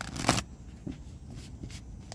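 Tarot cards are shuffled by hand in a few soft, papery bursts, the first one louder and fuller, followed by quieter brief riffles and shuffles close by.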